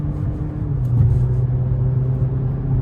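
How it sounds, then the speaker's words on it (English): A 2012 Chevy Cruze accelerating on the road, its engine drone loud and steady with a rising tone that dips briefly around a gear change, under continuous road rumble. "Hey, that transmission shifting the way it's supposed to."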